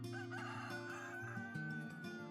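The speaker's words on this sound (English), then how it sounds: "Eventually, your rooster will crow" A Wyandotte rooster crows once, a drawn-out cock-a-doodle-doo held steady then trailing off, faint and set against soft background hum with no talking.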